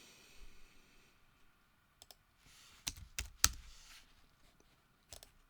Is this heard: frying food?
no